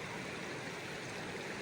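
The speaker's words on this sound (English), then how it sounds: "There's this little tiny stream, trickle of water" A tiny mountain stream trickles at Deer Creek along the John Muir Trail, a soft, even, continuous wash of running water heard alone at low level.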